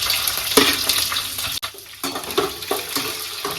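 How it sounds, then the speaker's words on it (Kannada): Green chillies sizzling in hot oil for a South Indian tempering with mustard seeds, cumin, urad dal and chana dal, a continuous loud crackling fry with brief stirring and a short break in the middle. "ಒಗ್ಗರಣೆಗೆ ಮೆಣಸಿನ್ಕಾಯಿ ಹಾಕೊಳ್ಳೋಣ."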